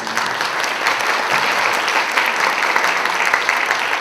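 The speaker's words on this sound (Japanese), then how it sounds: "今一度、盛大な拍手を。" A large symposium audience gives a sustained, dense round of applause, loud and steady throughout with no talking over it.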